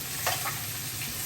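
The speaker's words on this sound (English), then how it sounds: "Again, I'm searing it." Meat searing in a hot pan of oil and butter while being basted, giving a steady, close sizzle with a few brief scraping accents.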